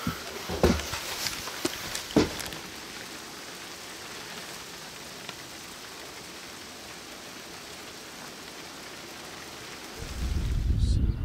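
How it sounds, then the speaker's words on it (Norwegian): Steady heavy rain hisses throughout, with a few sharp knocks near the start and a louder rumbling surge at the end, outdoors in Langsua National Park, Norway. "Det regner mye."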